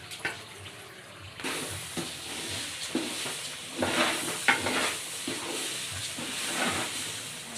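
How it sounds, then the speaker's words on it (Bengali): Rice for chicken pulao is fried and stirred in a pan, giving a continuous sizzling hiss with repeated scraping stirs, close up and without talk. "চালটাকে ভালো করে ভেজে নিব।"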